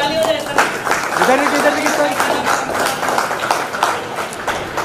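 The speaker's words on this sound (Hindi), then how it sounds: "वाह वाह, जोरदार ताली हो जाए" Audience applause fills the hall at an Eid Milan mushaira and kavi sammelan in Balasore: dense, steady clapping over several seconds with voices talking over it.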